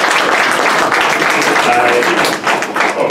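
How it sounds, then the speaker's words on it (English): Loud, close audience applause at an authors' conference and book launch, a dense wash of clapping filling the whole stretch with a brief dip near the end. "I would have said a round of applause for Ejaz, but you've done it already"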